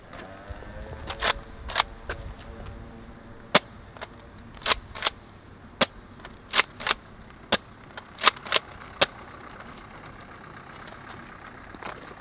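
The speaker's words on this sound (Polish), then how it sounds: "Sprawdzimy, jak daleko polecą strzałki wystrzeliwane z podwójnych rów." Sharp snapping shots from a Nerf Rough Cut double-shot blaster firing foam darts pop off irregularly, about a dozen over several seconds, some in quick pairs, against a quiet background.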